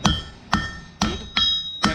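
Five sharp hammer blows ring out at an even pace as 1/8 by 3/4 inch steel flat bar is forged into long tapered points, each strike a bright metallic clang with a short decaying ring, close and unaccompanied by talk.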